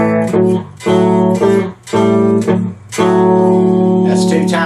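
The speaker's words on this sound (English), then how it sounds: "We're going to do that twice, so then the entire thing would sound like this." Cigar box guitar runs through a full riff twice at a slightly quicker pace, with bright strummed chord hits in a steady rhythm, close and loud, alone without voices.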